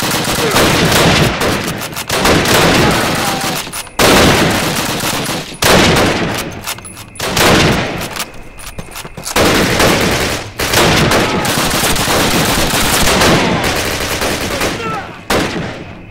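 Dense bursts of rifle and machine-gun fire in a World War II night-raid firefight in Call of Duty United Offensive, loud and close, coming in long rattling volleys with brief gaps between them.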